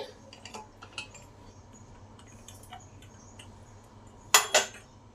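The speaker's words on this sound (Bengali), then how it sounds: "প্রেসারের ঢাকাটা খুলে দেখি কি অবস্থায় আছে।" A pressure cooker lid being opened in a home kitchen after cooking rice and dal together, with a few quiet metallic clinks and small taps, then two sharper louder clanks near the end over a low background hum.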